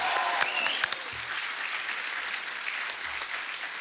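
Studio audience on an Indian television comedy talk show applauding steadily throughout, a dense continuous clatter of clapping with faint cheering and a brief whistle near the start.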